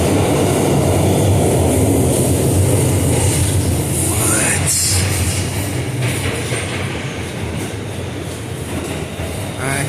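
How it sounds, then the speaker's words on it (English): Ride inside a Brooklyn-bound R211T open-gangway C subway train: a loud, continuous roar of wheels and car rumble with rhythmic rail clatter and a brief high squeal, faint voices underneath. "They're named the model R211T, and it is a gangway model."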